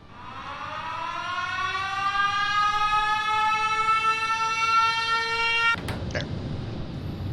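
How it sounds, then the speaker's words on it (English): A rising, wailing alarm siren sounds in a video game base, its many harmonics sweeping slowly upward and holding loud and steady for several seconds before cutting off abruptly, followed by a brief click and quieter background. "this alarm will ring"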